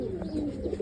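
Soft, low pigeon cooing from a healthy, fit pigeon kept by a Bangladeshi pigeon keeper, a steady murmuring coo close by with a couple of brief louder pulses near the end.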